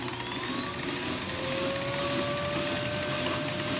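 An upright vacuum cleaner, a Hoover Z700, whines steadily as its motor starts up, pitch rising slowly as it revs, loud and close with no talking.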